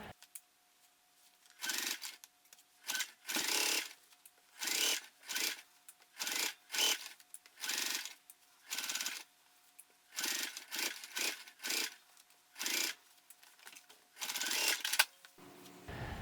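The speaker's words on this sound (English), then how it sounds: "You sew it on." Sewing machine stitching a backpack, heard as a long series of short bursts of running stitches with brief pauses between them, fairly quiet and close, with no talking.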